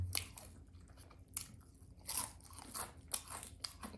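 Crisp crunching from someone eating fried snack food at a birthday gathering, several sharp bursts in irregular bites, close and fairly loud with no talk.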